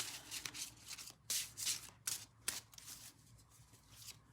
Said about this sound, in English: We're shuffling.